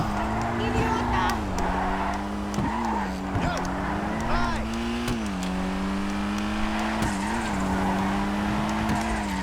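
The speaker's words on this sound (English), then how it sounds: "noticing the front tires are really putting down some rubber. You can see really loss of traction from the front" The front tires of a Dinka Blista Kanjo, a Honda Civic-style compact car in GTA Online, squeal continuously as they lose traction, with a droning engine beneath and a loud, close, sustained wavering screech.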